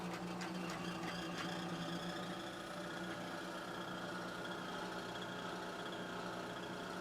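A lathe runs in back gear at cranked-up RPM, turning Inconel pipe, with a steady, dense mechanical whir and hum throughout and a few faint clicks near the start, with no talk.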